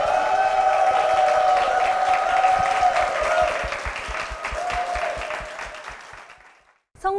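A church congregation gives a hearty round of applause over sustained music, the dense clapping gradually thinning and fading out before a brief sound at the very end.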